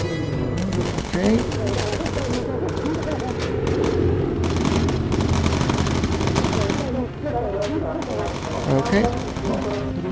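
Machine-gun fire from a bomber's gun turret in the WW2 video game Bomber Crew, sustained rattling bursts with short gaps alongside game sounds, while a player speaks briefly.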